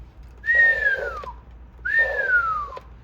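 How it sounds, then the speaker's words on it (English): A person whistles twice into the microphone of a single sideband CB radio during a whistle test, each whistle a clear, steady tone that glides slowly downward, with a short gap between the two. "about 15, 20 watts when you give it the old whistle test"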